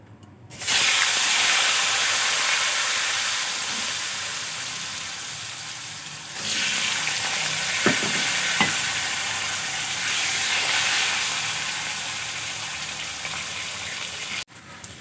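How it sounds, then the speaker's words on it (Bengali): Potato pieces fry in hot oil in a pan, giving a loud, continuous sizzle that starts abruptly, with a couple of brief spatula taps midway and a sharp cutoff at the end. "ওই তেলের মধ্যে আমি আলুগুলোও ভেজে নেব।"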